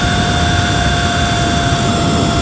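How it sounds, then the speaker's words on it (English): A 72v Surron electric dirt bike fitted with a 48T sprocket gives a loud, steady high-pitched motor whine with constant tonal bands, sustained without pause. "the bike sounds hella loud to me"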